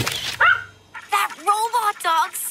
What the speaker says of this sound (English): That robot dog's so cool.